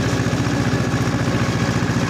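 A motorized tiller engine runs steadily and loudly up close in a garden plot, its mid-pitched chugging firing in a fast, even rhythm with a clattering edge and no break.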